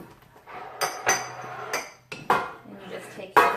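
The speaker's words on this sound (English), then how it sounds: "And you mix really good." Lemon loaf batter is mixed in a bowl, with a utensil repeatedly knocking and clinking against the bowl in uneven bursts, fairly close and loud.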